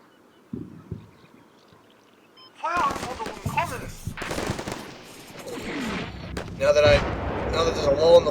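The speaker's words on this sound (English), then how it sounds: "now they're firing on enemies across the courtyard" Engineers in the video game Combat Mission Shock Force fire across a courtyard from a captured machine-gun position, with a couple of isolated shots first, then a sustained, loud mix of bursts and blasts that keeps building.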